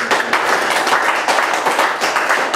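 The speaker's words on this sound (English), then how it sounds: "Give the Lord a hand clap." A church congregation claps during a Sunday worship service in Des Moines, with many hands giving a dense, loud, continuous patter of applause that swells and dips slightly but never stops.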